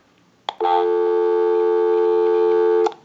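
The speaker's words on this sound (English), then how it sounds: "We'll call my number and it'll be busy." Busy signal heard through a Western Electric 302 rotary telephone handset: a click, then one steady loud tone lasting over two seconds, ending in another click.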